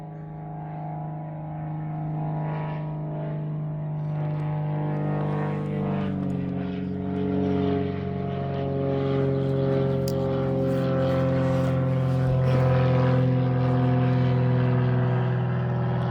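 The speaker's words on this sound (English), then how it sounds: "here comes an airplane" A propeller airplane drones steadily overhead, its hum growing gradually louder and fuller with no other sounds.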